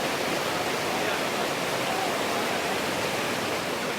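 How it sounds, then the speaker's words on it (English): A waterfall at Mpanga Kipengere in Southern Tanzania roars with a dense, steady rush of falling water, constant and unbroken, heard from a moderate distance. "Here there is a series of waterfalls, each one of them completely different from the other."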